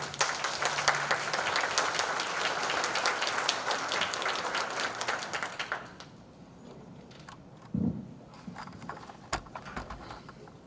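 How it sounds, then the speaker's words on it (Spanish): Loud, sustained applause from a seated audience at a human rights and gender equality panel discussion, dense clapping for about six seconds before fading into a few scattered claps and room noise. "Pues démosles un fuerte aplauso."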